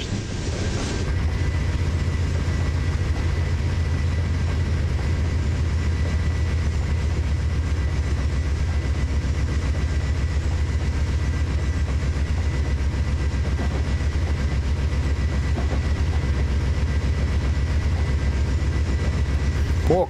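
Amtrak passenger train carriages rolling steadily off a bridge somewhere near Denver, a continuous loud low rumble with faint rail clatter lasting throughout, no voices.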